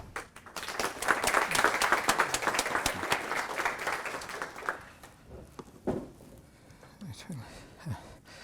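Audience applause welcoming a lecturer to the final talk of an evening lecture series, a dense burst of clapping for about five seconds that fades into scattered claps and quiet room noise.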